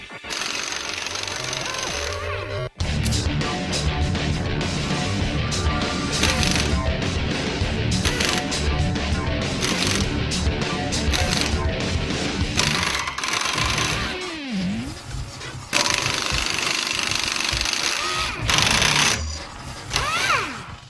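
A Chicago Pneumatic CP7748 half-inch pneumatic impact wrench with a twin hammer clutch hammers in long loud rattling bursts, briefly stopping and restarting several times, with rising and falling whirs between runs.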